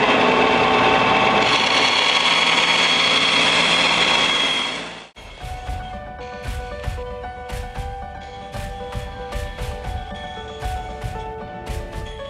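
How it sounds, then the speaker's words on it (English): A bandsaw cuts a round disc in a workshop with a continuous, close, whining buzz for about five seconds. It stops abruptly and is followed by quieter, rhythmic, music-like tones. "Let's go to the bandsaw. Let's start cutting."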